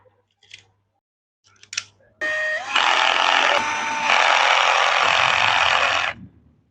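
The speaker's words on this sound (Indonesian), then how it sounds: "Kita langsung baut." Parts of a household electric fan being bolted together during a repair: a few soft clicks, then a loud, steady whirring burst lasting about four seconds that stops abruptly.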